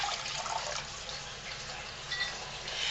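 Water pours steadily into a container set on a scale while making lye soap, a continuous close splashing fill with a few brief louder surges and no talking.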